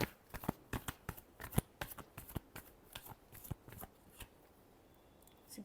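Tarot cards being shuffled by hand, a string of crisp riffling flicks and slaps in an uneven rhythm, close and fairly quiet, tapering off near the end.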